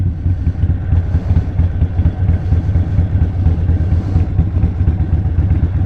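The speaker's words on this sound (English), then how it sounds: "So boom, second gear, downshift, apply the brakes." A motorcycle engine runs steadily and loud with a low rumbling drone and some clatter as the rider drops to second gear and brakes, ending the run after an earlier skid on a gravel patch.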